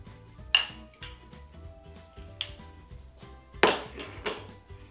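A plate and fork are handled in a home kitchen, with two bright ringing clatters of ceramic and metal and softer clinks between them, close by and with no talking.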